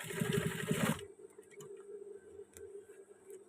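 A sewing machine runs in a fast, buzzing burst of stitching on a trouser waistband for about a second, then stops, leaving low hum and a few faint clicks.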